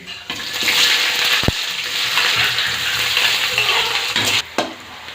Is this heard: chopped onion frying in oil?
yes